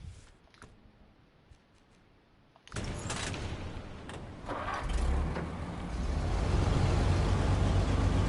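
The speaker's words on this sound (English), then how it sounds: "It sounds like an old truck." An old truck engine in the video game SnowRunner cranks and catches after a quiet stretch, then settles into a rough, loud rumbling idle that grows heavier and steadier.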